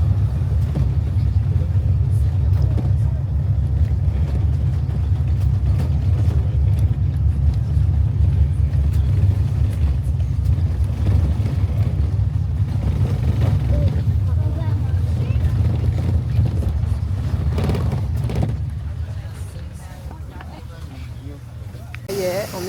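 A school bus carrying passengers on the way into an Indigenous village, with a steady loud low engine and road rumble throughout that eases slightly near the end, and people talking over it.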